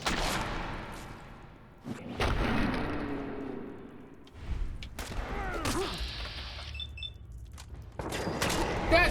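Gunfire in Fallout 4: bursts of shots and thuds with whooshing impacts and clanking mechanisms, loud and close, spread through a busy game fight with voices talking.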